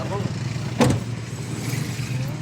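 Steady low road rumble from inside a passenger car picking up hitchhikers near Naic, Cavite, a continuous drone with a brief louder bump near the start, while people talk throughout.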